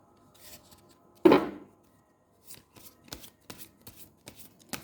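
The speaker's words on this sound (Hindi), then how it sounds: "चलिए थोड़ा सा मैं इसको शफल कर लेती हूँ" Tarot cards being shuffled by hand, a sharp riffle burst followed by a series of short, soft card flicks and taps, close and quiet with no talking.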